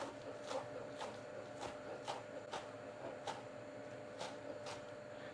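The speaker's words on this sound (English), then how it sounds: "chop the basil" A knife chopping basil on a board: about ten light, evenly spaced taps, quiet and close, against a faint steady hum.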